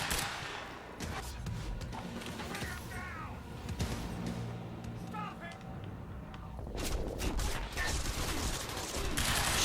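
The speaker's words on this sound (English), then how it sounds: "I gotta shoot his ass." Gunfire and clattering impacts in the Quantum Break video game, with a busy, continuous mix of shots and mechanical crashes and a voice heard along with it.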